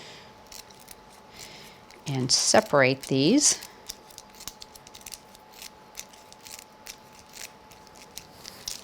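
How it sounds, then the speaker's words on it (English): Small craft scissors snip through strips of adhesive pearls, with a few quick clustered cuts in the middle of the sequence; someone speaks briefly over the snipping. "Actually, let's use the smaller scissors for that."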